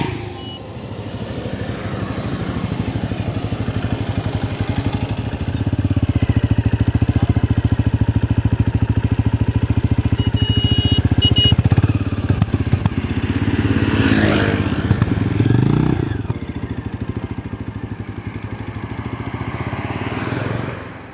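A Benelli Imperiale 400, a single-cylinder air-cooled motorcycle, runs close by with a steady thumping idle and exhaust note. It swells louder through the middle, then settles back, with no talking.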